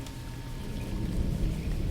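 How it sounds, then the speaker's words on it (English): Steady rain pours down, with a dense patter on leaves, wood and water and a low rumbling wash beneath, with no voices. "The sound of rain blends into itself, on leaves, on wood, on water."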